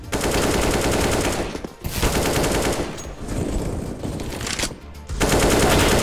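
Dense automatic gunfire from a CS:GO match, loud and continuous in long sustained bursts with two brief gaps, no voices over it.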